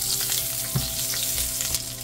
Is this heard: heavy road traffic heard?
no